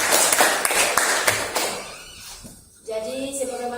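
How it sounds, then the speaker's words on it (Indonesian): Classroom applause during a primary science lesson on flowers: a short burst of scattered hand claps, fairly close and dense, that thins out and fades within about two seconds before a voice begins speaking. "Tepuk tangan semua."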